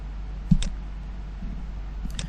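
Two crisp mouse clicks land about a second and a half apart while working in AutoCAD software, close and quiet over a low steady hum, with no voices.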